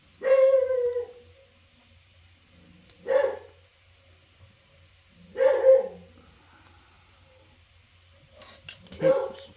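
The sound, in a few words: dog barking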